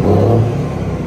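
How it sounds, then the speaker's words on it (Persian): A Mack truck engine turning over and catching as it starts, settling into a loud, close, steady low diesel rumble that holds for about a second with no voices. "من استارت میزنم شما صداشو بشنوید"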